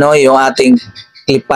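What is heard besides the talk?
No everyday noise stands out behind the speech.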